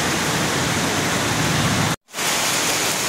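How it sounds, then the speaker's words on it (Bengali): Heavy night rain falls in Bangladesh as a dense, steady hiss that fills the scene, broken by one brief cut of silence partway through. "এই তো বৃষ্টি হচ্ছে, অবশেষে বাংলাদেশে বৃষ্টি চলে আসলো"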